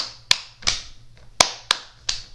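Five sharp hand claps ring out at uneven spacing over a faint low backing beat, each crisp and bright with a short decaying tail.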